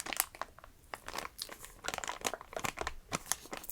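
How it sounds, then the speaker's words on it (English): Crinkly plastic wrapper from a glove package being handled up close, a dense run of sharp crackles and rustles, fairly quiet and without pause. "A very crinkly wrapper."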